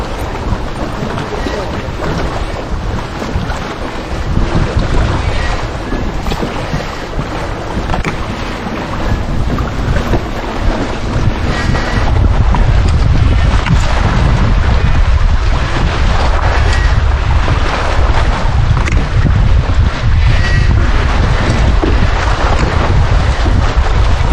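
Strong wind buffeting a fishing boat on Lake of the Ozarks, loud continuous roar with wind noise on the microphone and water sloshing, swelling louder partway through.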